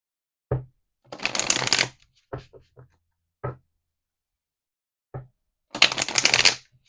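Oracle cards riffle-shuffled twice in crisp, close bursts, with scattered light taps and shuffles of the deck in between; no talking.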